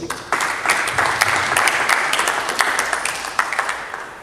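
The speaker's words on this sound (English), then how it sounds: "can we give you another round of applause?" A crowd applauds steadily for several seconds, a dense wash of clapping with a few sharper individual claps standing out.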